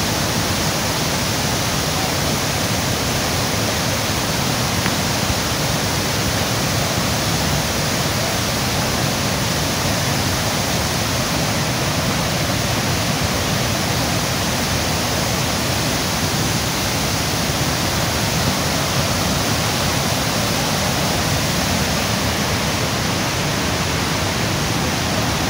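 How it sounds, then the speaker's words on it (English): Water flows near a waterfall in a forest near Nairobi, Kenya, giving a steady, dense hiss that holds unchanged for the whole stretch, with no talking. "If you can hear the sound of water."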